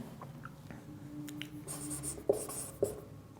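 Chalk or marker scratches across a board during a physics lesson on polarisation of light, a few short scraping strokes with two sharper taps near the end, fairly close in a quiet classroom with no talking.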